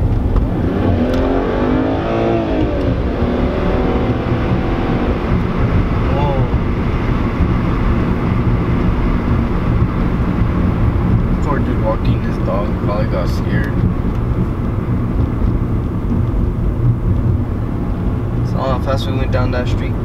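A car in sport mode accelerates, a loud, steady engine roar heard from inside with wind noise and road rumble; people talk over it.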